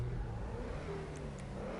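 An XA21 supercar in GTA Online hums with a steady mid-pitched engine drone that rises slightly as it revs, heard alone and fairly quiet throughout.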